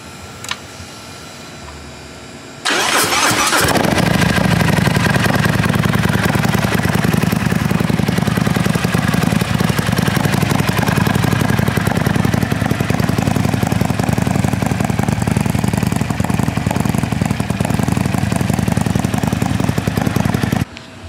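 Harley-Davidson Milwaukee 8 128 cubic-inch CVO Road Glide engine with 12:1 compression and a Jim's Maxell cam, starting after a short quiet lead-in and then running loud and steady for the rest, with no talk.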